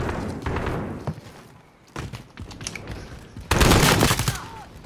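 Rapid pistol shots in Call of Duty: Modern Warfare ring out as a loud, close string of sharp cracks in two bursts, the second louder, with brief gaps and faint background game noise.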